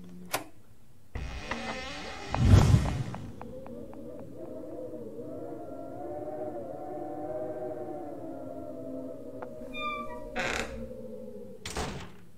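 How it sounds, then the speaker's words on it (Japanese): A door creaks open in the Pocket Mirror video game. A dull thunk is followed by a long, wavering, drawn-out creak, and a sharp knock comes near the end in a quiet game setting. "じゃあ扉を開けてよ"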